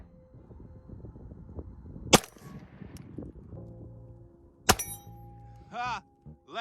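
Two sharp Glock pistol shots ring out several seconds apart at an outdoor shooting range, loud and close, with clanking, chatter and laughter from people nearby between the shots.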